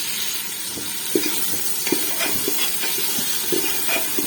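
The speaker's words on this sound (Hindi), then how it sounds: "यहाँ पे जी हम इसको चनों को जो है भूनने लगे हैं।" Chickpeas roast in cooking oil in a pot, giving a close, continuous sizzle and hiss with scattered soft stirring knocks and small pops, no talk.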